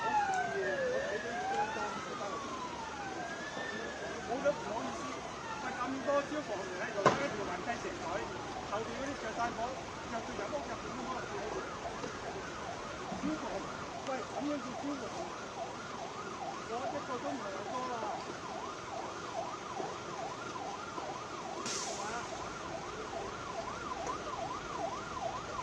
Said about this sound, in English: Now I can hear the fire engines.